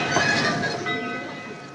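The Cannonball, an old train, wheezes and rumbles close by with a breathy hiss and a rattling clatter that slowly fades.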